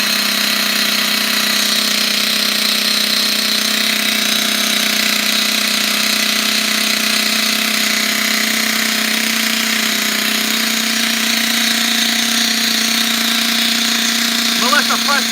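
An OFNA Jammin nitro RC truck engine runs at a steady high-pitched buzzing drone, loud and close, holding an even tone for about fifteen seconds with a faint voice near the end.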